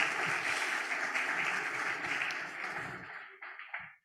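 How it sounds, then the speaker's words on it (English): Sustained applause from an audience at a regional meeting on biodiverse cities, a steady dense wash of clapping for about three seconds that then thins into a few scattered claps and stops. "give CAF president and the staff a wonderful round of applause"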